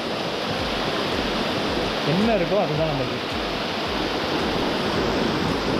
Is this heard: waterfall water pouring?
yes